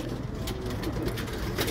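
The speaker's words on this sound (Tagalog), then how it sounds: "Ganda ng ibon." Racing pigeons in a California loft, some imported from Europe, coo softly in repeated low murmurs over a constant background hum, with occasional brief sharper calls.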